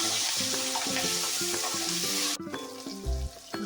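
Mint and curry leaves fry in a pan for pudina chutney, giving a steady, close sizzling hiss that drops off sharply partway through, with music playing underneath.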